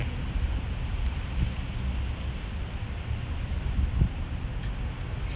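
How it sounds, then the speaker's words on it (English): Strong wind buffets a Mavic Mini drone flying high above a retired ship in Philadelphia, a steady rushing roar with gusty surges and no voices. "strong wind again"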